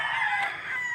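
A rooster crows on a rural hillside, heard as a brief, fairly faint call at a middle distance.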